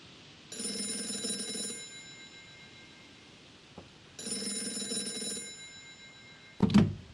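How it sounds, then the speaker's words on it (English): A telephone in the video game Gray Matter rings twice in long electronic bursts with a pause between them, followed by a short thunk as it is picked up. "How did you know the phone would ring just now?"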